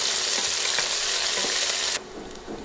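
Two sliced onions fry over a medium flame in a pan for khichuri, giving a loud, steady sizzle broken by repeated stirring scrapes. The hiss drops sharply to a softer crackle near the end.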